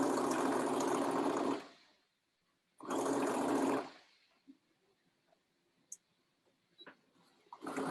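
A sewing machine runs in two short bursts as fabric pieces are stitched together at a half-inch seam, its close, steady whirr separated by quiet pauses with faint handling clicks.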